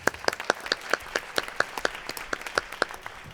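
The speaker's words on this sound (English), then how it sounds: "but we'll clap" Audience applause at a school district staff awards ceremony: a modest crowd claps steadily with distinct, fairly even hand claps, moderately distant in a large room, no voices over it.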